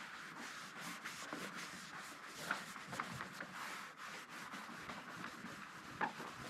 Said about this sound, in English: Use another cloth just to hold down on the other side so it doesn't spin around while I'm trying to polish.